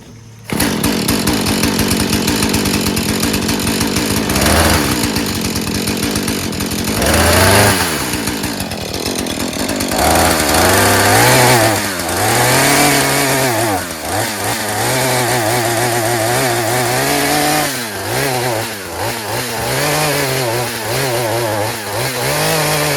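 A Husqvarna 435 40cc X-Torq gas chainsaw, chain brake removed and fuel mixture out of adjustment, runs loud and close, revving repeatedly from idle to high with hesitant, wavering bursts over about twenty seconds.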